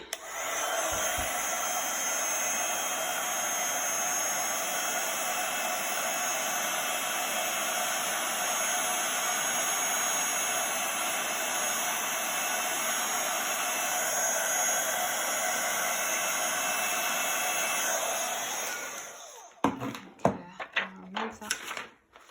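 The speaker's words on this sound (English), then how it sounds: "I'm just going to heat that up with our heat gun" Heat gun warming embossing powder on a card for a mitten-themed handmade card, a steady loud blowing whoosh running unbroken for about nineteen seconds before cutting off, followed by a few clicks and handling noises.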